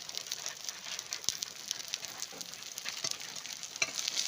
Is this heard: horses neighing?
no